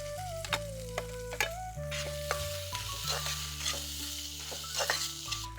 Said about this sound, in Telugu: పోపు అంతా బాగా వేగిపోయిందండి దీన్ని ఇప్పుడు దించేసుకుందాం